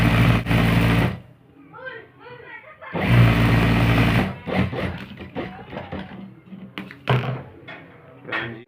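A sewing machine stitches a salwar panel, right sides together with a half-inch seam, in two loud mechanical bursts, with a voice talking quietly between them.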